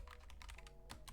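Rapid keystrokes on a computer keyboard, close and steady, clattering in quick uneven bursts over a low background hum with no voices.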